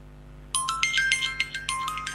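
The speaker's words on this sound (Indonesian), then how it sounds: "kalian bisa dengar sendiri bahwa speakernya sudah" A repaired phone speaker plays a ringtone after a short quiet start, with a bright, repeating electronic melody that is clear but thin and close.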